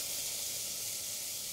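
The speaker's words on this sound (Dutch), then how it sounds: "Nou, de boter prima. Begint nu al te bakken. En dan doe ik de uitjes erin." Chopped onions sizzle in melted butter in a cooking pan for soup, a steady, even hiss with no talk over it.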